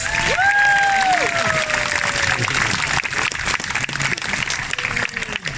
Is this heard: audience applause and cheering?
yes